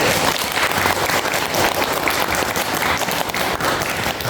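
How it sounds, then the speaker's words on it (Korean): An audience claps in thanks for Deokbun School, dense sustained applause at fairly loud level with no voices over it. "다시 한번 덕분스쿨에게 감사의 박수를 보내고"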